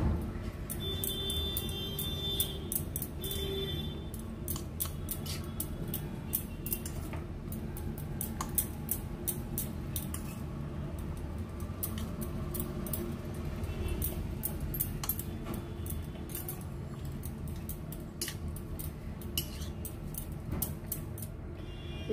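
Raw papaya salad with chili flakes being mixed thoroughly, giving a steady stream of close clinking, clattering and wet squishing that runs throughout with no talking.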